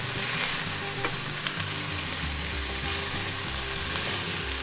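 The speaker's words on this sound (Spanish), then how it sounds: "las sazonamos con tantita sal para que no estén insípidas y las freímos junto con la carne." Potatoes frying together with beef steak in a pan, a loud, steady sizzle up close with scraping and stirring sounds mixed in and no voices.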